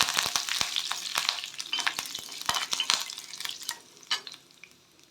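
Dried red chillies and curry leaves hit hot oil with lentils already browned in the pan, giving a loud, crackling sizzle and spatter broken by quick stirring scrapes, fading toward the end.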